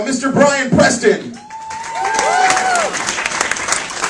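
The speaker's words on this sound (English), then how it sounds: "Keep the applause going" Audience applause with some cheering and whoops at a comedy show, swelling after an emcee's spoken introduction and continuing steadily to the end.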